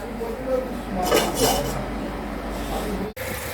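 A lid set down on a pan of simmering prawn curry gives a few metallic clatters and clinks, close and moderately loud, with kitchen background hum throughout.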